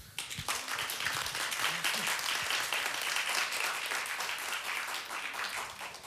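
Audience applause for a small child's ballet-style bow on stage at a children's talent contest, dense steady clapping from a crowd filling the whole stretch without a break.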